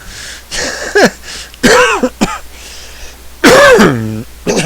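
A person coughs and clears their throat several times up close, harsh rasping bursts separated by short pauses.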